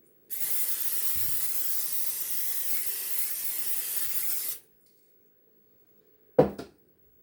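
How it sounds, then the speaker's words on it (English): A continuous hiss of cooking spray onto a cookie sheet lasts about four seconds, close and steady, followed by silence and then a single metallic clank of the tray. "So we'll spray this cookie sheet down."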